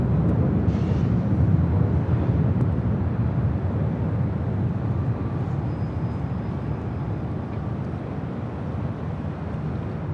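A KLM Boeing 787-10 Dreamliner taking off at LAX makes a loud, sustained jet roar that stays strong the whole time and eases only slightly near the end.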